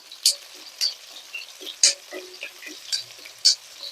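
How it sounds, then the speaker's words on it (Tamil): Small shallots and garlic sauté in a pan with a soft, light sizzle, punctuated by sharp clicks and scrapes of a stirring utensil against the pan. "சின்ன வெங்காயம் எப்படி நல்லா தோல் சுருங்கி வதங்கிருச்சு அதுக்கு அடுத்தது வந்து பூண்டு சேர்த்தாக்கலாம்"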